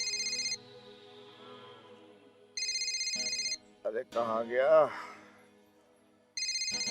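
A telephone rings in repeated bursts, loud and close, with long pauses between rings, while someone speaks briefly in the gap.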